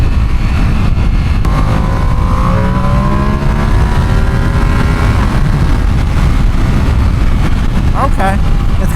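A 2025 Ducati Panigale V2 engine revs in race mode while riding, with rising harmonic tones over a loud, steady rumble and wind.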